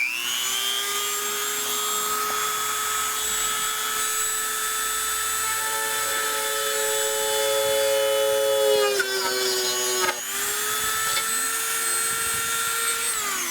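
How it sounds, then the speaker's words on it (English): A high-pitched power drill whines steadily while drilling a fuel dot hole through fiberglass on an Edge 540 model aircraft, its pitch dipping and shifting as it bites, with a brief stop near the end. "drilling the hole for the fuel dot"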